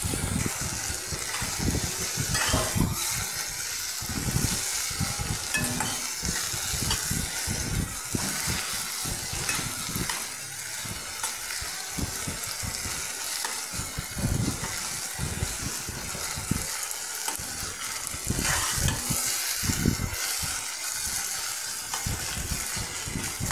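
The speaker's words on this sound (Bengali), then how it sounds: "আটাটার সাথেও ভালো করে শাকটাকে একটু ভাজা ভাজা করে নিচ্ছি।" Greens frying with a little wheat flour in a pan, a steady close sizzle with irregular scraping and stirring knocks throughout, no talk.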